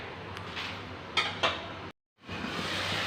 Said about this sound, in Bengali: ঢাকাটা খুলে নিলাম